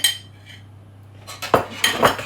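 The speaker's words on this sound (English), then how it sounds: "you can stir in now your mashed banana" Mashed banana stirred into a saucepan for a banana and walnut cake gives a quiet background hum, then a few close metal clinks and scrapes of the spoon against the pan near the end.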